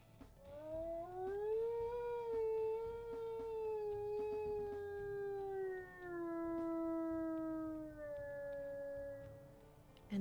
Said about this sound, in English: We'll go ahead and listen to his howl as well.